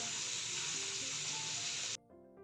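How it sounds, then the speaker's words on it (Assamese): Fish sizzles loudly as it fries in a small amount of oil in a pan, a dense, steady crackling hiss for about two seconds before cutting off abruptly. "মই কম তেলতে ফ্ৰাই কৰিছোঁ"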